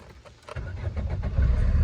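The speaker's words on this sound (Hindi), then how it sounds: "तो मैं अभी गाड़ी को स्टार्ट करता हूँ, गाड़ी को स्टार्ट करके आपको दिखाता हूँ।" A diesel Maruti Suzuki Ritz (LDi/VDi), overheated, cranks and fires up, a rising mechanical rumble that settles into a steady, loud close-up idle.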